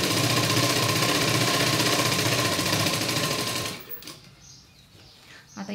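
A sewing machine stitches a boat neck blouse with a fast, steady mechanical whirring hum that runs for a few seconds, then stops abruptly, leaving faint handling noise.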